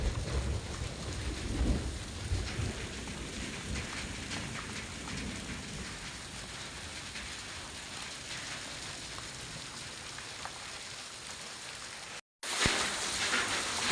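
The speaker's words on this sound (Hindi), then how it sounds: "देखो ओले पड़ रहे हैं" Hailstorm with heavy rain and thunder, a steady dense roar of falling ice and water throughout with low rumbles, briefly cutting out near the end before resuming.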